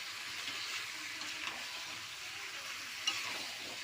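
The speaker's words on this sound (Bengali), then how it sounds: "চিকেনটাকে কষছি এখন" Chicken with spices, fried potatoes and tomato being sautéed for a Bengali curry, a soft, even sizzle with occasional faint stirring taps, moderately quiet and without speech.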